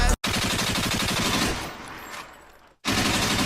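Gunshot sound effect dropped into a live music performance, a burst of loud rapid cracks over a dense beat that drops out briefly, thins, then cuts back in full.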